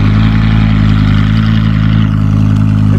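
A Lamborghini Urus exhaust, still fitted with catalytic converters and mufflers, roars loudly and steadily, a deep constant engine rumble close up with no talking.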